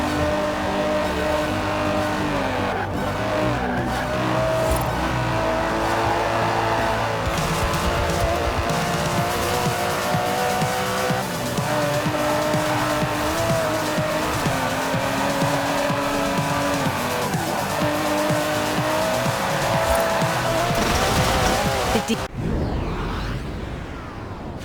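Aston Martin DB11 in Forza Horizon 4, engine droning loud and steady with shifting revs, tire squeal and whooshing as it races, continuous for over twenty seconds before cutting off abruptly.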